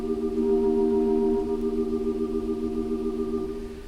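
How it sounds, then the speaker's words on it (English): A held chord on a Wurlitzer theatre organ sounds steadily while the tone shifts between two tibia ranks, soft and sustained with a slight waver, then fades a little near the end. "If I hold a chord here and switch between the 2, you can tell the difference."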